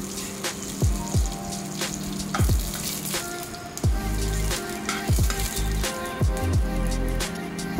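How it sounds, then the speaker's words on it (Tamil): Curry leaves, mustard seeds and cumin sizzle in hot oil for an oats khichadi, a steady crackling hiss broken by sharp pops and spits, close and fairly loud, with no talking. "இப்போ இதில் 1 கொத்து கருவேப்பிலை ஆட் பண்ணிக்கிறேன். இதை நல்லா மிக்ஸ் பண்ணி விட்டுக்கலாம்."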